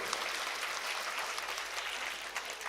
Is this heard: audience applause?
yes